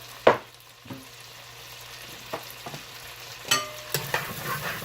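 Chicken stew sizzling softly in a pot over medium heat, with a low steady fry broken by a few sharp clinks and stirring scrapes, fairly quiet and close.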